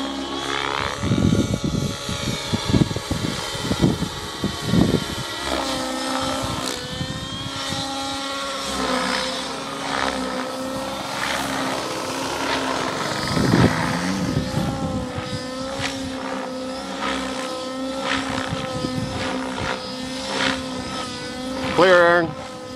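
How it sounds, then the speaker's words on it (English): Align T-Rex 700 RC model helicopter flying in to land, a whining rotor and motor drone that shifts in pitch as it approaches, loud and continuous under people talking. "He's coming in. Runway's clear, Chris."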